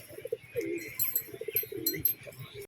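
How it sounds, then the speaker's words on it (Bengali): Biscuit-coloured pigeons cooing close by, with a series of soft, throaty low coos repeating throughout, faint higher chirps mixed in and no talking. "এগুলো বিস্কুট পায়রাটা"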